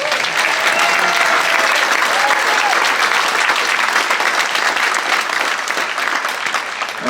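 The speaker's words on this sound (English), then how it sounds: "A big round of applause for all of them." A large crowd aboard a cruise ship applauds the ship's senior officers and department heads, a loud, continuous roar of clapping that holds steady throughout.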